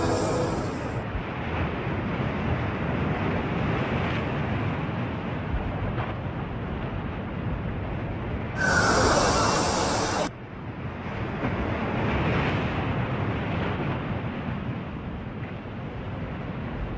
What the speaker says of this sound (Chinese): 并且海浪来临时王静没有做到迅速转身顺势而下，而是直直地冲向了海浪，导致巨大的海浪将其淹没。